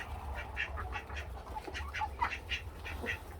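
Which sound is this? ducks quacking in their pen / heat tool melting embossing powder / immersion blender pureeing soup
ducks quacking in their pen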